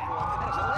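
Wailing police sirens in the video game Watch Dogs rise and fall over a steady low rumble, filling the whole short moment at a fairly loud, close level.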